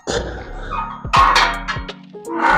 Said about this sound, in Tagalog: Ano pa lang aso doon?